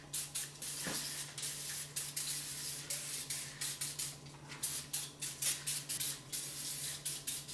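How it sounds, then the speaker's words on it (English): Repeated short hissing sprays of oven cleaner into an oven, one after another in quick bursts, with a steady low hum underneath. "Make sure you spray that oven liberally."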